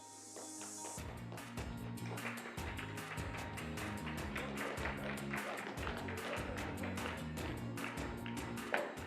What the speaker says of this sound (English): Thanks for the golf clap.